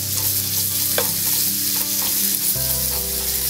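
Marinated sirloin steak strips sizzle steadily and loudly in a hot pan, a dense broadband hiss with faint scrapes and stirring clatter, alone with no talking.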